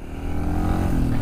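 A Yamaha XT225 dirt bike is ridden in first gear, its engine holding a steady, loud low drone close to the microphone, with no talking.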